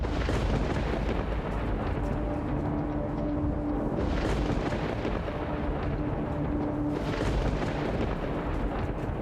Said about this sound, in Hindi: ये बेमौसम बादल कैसे गरज रहे हैं?